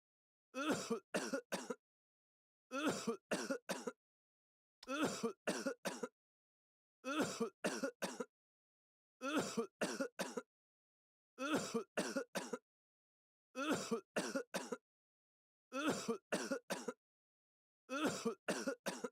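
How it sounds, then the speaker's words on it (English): Short bursts of coughing from a character in the game The Great Ace Attorney repeat at even intervals, each a quick cluster of three or four hacks separated by silence. "You guys can listen to him coughing."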